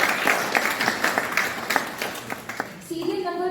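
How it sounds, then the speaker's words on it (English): Scattered clapping from an audience at a storytelling competition as a speaker is welcomed on stage, moderately loud and uneven, giving way to a tonal voice or music at the end. "Please everyone, welcome her with a huge round of applause"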